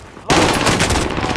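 Sustained gunfire in Call of Duty Warzone on Rebirth Island erupts abruptly after a brief quiet and rattles on loud and dense, with bursts overlapping to the end.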